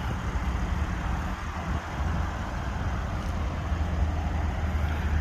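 A 2023 BMW M3 Competition M xDrive engine runs at a steady idle, giving a constant, even, moderately loud broadband rumble with no revving.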